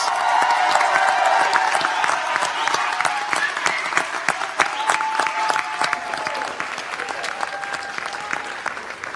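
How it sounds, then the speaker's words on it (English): An auditorium audience at a white coat ceremony for the class of 2021 gives a long, loud, dense round of applause that stays steady throughout, with a few raised voices mixed in. "congratulate the class of 2021 with another round of applause"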